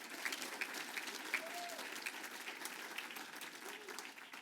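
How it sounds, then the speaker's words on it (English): An audience at an alumni awards night applauds an honoree, a sustained round of clapping from a crowd heard at moderate distance, with faint background tones. "A round of applause for Brian."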